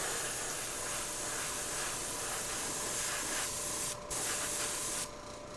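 Liquid Kicks topcoat sprayed onto painted shoelaces, a continuous close hiss that drops out briefly near the end.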